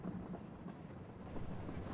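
A train passes in the video game Battlegrounds (PUBG), heard as a faint, steady low rumble throughout, distant and quiet, with no voices.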